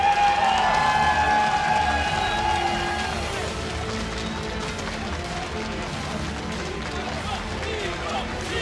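At IEM Katowice 2015, an esports StarCraft II crowd cheers and claps for the player herO. The noise is loud and dense, with an announcer's voice carrying over the first few seconds before the roar eases to a steady, slightly quieter level.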